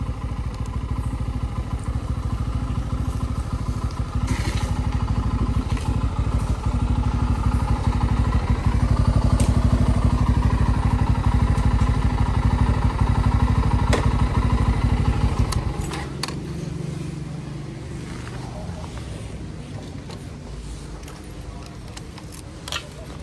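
A Bajaj Pulsar F250 motorcycle engine runs loud and steady, arriving for break-in service, with clattering mechanical ticks, then drops to a quieter idle after about fifteen seconds.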